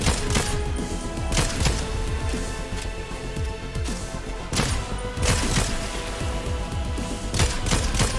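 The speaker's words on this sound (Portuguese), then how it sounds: "Vamos atirar no escudo dele" Gunfire in the game Fortnite aimed at an enemy's shield: rapid, loud bursts of shots with sharp impacts, broken by several heavier cracks, sustained over about eight seconds.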